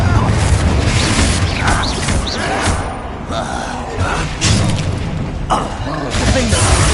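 Confringo and Bombarda spell explosions in the video game Hogwarts Legacy come as loud, dense booms and thuds in rapid succession amid constant battle noise, with shouted spell names over the top.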